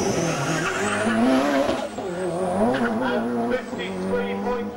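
A Nissan S14 with an SR20DET engine drifts through a left-right on a handling track, tires skidding and squealing with the engine wailing loudly and continuously, while a commentator talks over it.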